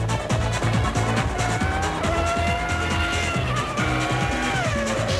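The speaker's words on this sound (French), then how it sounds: "L'incroyable puissance de son V10 époustouflant." A Ferrari Formula 1 car with a V10 engine accelerates hard. Its loud, high-pitched wail climbs in pitch through successive revs, with faint tire noise and no talking.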